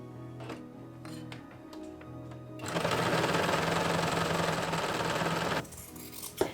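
A sewing machine stitching the side seams of fabric bloomers gives a few scattered clicks, then runs in one continuous rapid whir for about three seconds before stopping.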